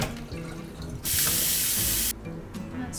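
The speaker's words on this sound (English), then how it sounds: "We're going to dump out a little of this water." Water being poured out of a container while making yogurt at home, a loud rushing splash lasting about a second in the middle of the clip, framed by quieter kitchen noise.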